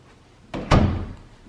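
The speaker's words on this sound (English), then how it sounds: "just shove them in there, close the door" A door swings shut indoors in a house lower level with two close thuds, a softer knock followed by a louder slam that rings briefly and fades.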